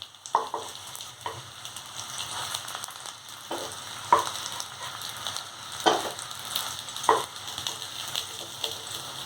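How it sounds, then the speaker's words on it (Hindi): Spring rolls shallow fry in oil, giving a soft, continuous crackling sizzle with occasional sharper pops and clicks of turning or stirring, close and unaccompanied by voices. "शैलो फ्राई करने से इसमें क्रिस्पीनेस आ जाएगा जो खाने में बहुत ही ज्यादा क्रिस्पी लगेगी"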